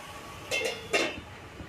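Pan lid set over frying drumstick greens, giving two quick metallic clinks close together, fairly faint against quiet kitchen background.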